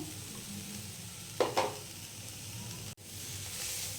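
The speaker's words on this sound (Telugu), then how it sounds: "ఇప్పుడైతే 1 టమాటో కట్ చేసుకున్నాం కదా, ఇది కూడా ఇందులో లాస్ట్లో వేసుకుందాం." Chopped tomato and vegetables sizzle steadily in a pan for a sandwich filling, a soft continuous frying hiss with a couple of brief louder scrapes near the middle and a short dropout later.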